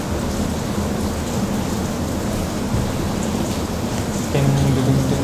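Rain falls in a steady, heavy hiss played through a laptop, with a low rumble beneath that swells slightly near the end.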